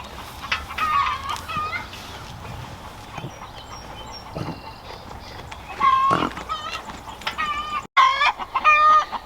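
Chickens cluck and chatter around a yard, short rising calls scattered throughout with a busy outdoor background and a brief louder burst near the end.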